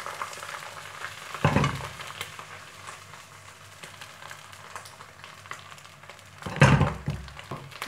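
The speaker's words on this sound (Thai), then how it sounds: "ให้กระทะของเรา ของเราร้อนแล้วเราก็ใส่ไข่ลงไปเลยค่ะก็กลิ้งเขาให้ทั่วนะคะ" Egg hits a hot wok for pad thai with two loud bursts of sizzling, each fading to a softer fry, close and without talk.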